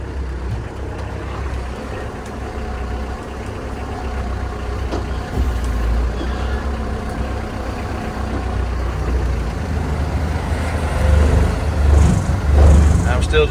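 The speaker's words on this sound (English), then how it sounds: "Literally just idling, letting my foot off the clutch." A vehicle engine idles with the foot off the clutch in tight quarters while moving sheep, a steady low rumble close by that swells slightly toward the end; someone speaks over it.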